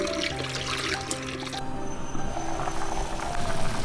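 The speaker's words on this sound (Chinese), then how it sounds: "吐干净泥沙的蛏子给它清洗一下" Razor clams are rinsed under running water in a kitchen, with a steady splashing trickle and gurgling pour, faint and close throughout.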